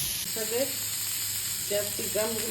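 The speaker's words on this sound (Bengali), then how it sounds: "ভালো করে ভেজে নিচ্ছি" Food frying in a pan gives a close, steady sizzle, with a few brief tonal scrapes or squeaks partway through and no speech.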